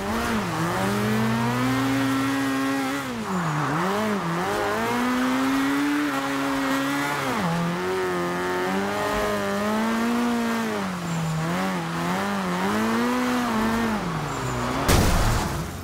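A Nissan Silvia S13 engine in Forza Horizon 2 revs hard and continuously, its pitch climbing and dipping through repeated gear changes as it drifts, loud and close throughout, ending with a sudden noisy burst.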